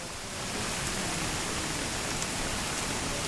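Heavy monsoon rain pours down in Dehradun as a dense, even roar. It fades in over the first half second, then holds steady and loud with no voices.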